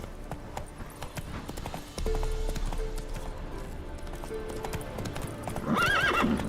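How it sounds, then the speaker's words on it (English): Horse galloping in The Witcher 3, rapid rhythmic hoofbeats thudding over continuous game background, a neigh rising near the end. "Run, Roach"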